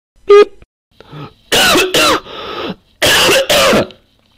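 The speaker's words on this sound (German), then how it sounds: "Natürlich muss ich einen Hustenanfall bekommen während des Videos." A coughing fit during a German coding screencast: a sharp first cough, then a gap and a run of harsh, close, loud coughs in two bursts with a throat-clearing rasp between, no speech.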